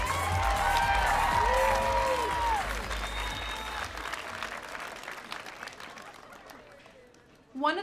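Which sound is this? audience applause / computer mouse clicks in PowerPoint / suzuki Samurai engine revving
audience applause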